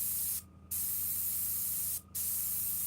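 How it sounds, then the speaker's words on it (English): An airbrush sprays paint in a steady high hiss that cuts out twice, once briefly near the start and again later, resuming each time at the same level, close and alone with no talk. "I watch the paint come through the airbrush."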